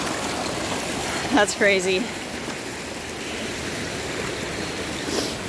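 Water rushes down a small waterfall on off-grid land after a washout, a steady broad roaring hiss that continues throughout, with a man's brief remark partway through.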